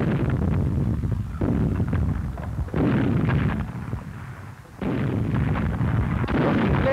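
A captured enemy cannon fires near Suda Bay on Crete in 1941, loud booming blasts arriving in a series of heavy bursts with brief lulls between them, in a muffled old wartime newsreel recording.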